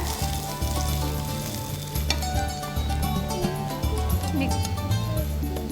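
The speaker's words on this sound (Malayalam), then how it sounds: "ഒരു പാൻ അടുപ്പത്ത് വെച്ചിട്ട് അതിലേക്ക് നമ്മൾ ഗാർലിക് ഇടുവാണ്, വെളുത്തുള്ളി ഇടുവാണ്" Garlic sizzles in a pan on the stove, a continuous bright frying hiss with small crackles, heard under loud background music with strong bass.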